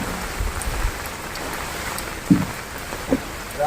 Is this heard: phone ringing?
no